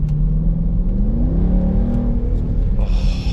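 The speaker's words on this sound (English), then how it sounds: "Gotta love that straight displacement V8 sound." A 2023 Dodge Durango SRT 392 Plus with its 392 V8 rumbles deep and loud, the engine note climbing steadily as it revs up, heard close from inside the vehicle.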